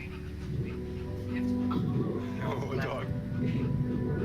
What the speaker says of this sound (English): Oh, you got a doggy.